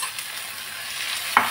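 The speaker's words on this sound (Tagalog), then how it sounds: "I-sear muna natin para masarap" Meat searing in a pan for a broccoli and carrot dish, a steady loud sizzle with a brief sharp clank or stir near the end, no voices.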